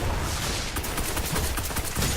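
Rapid bursts of gunfire from the video game Destiny crackle through a busy multiplayer match, a dense fusillade of overlapping shots at moderate loudness.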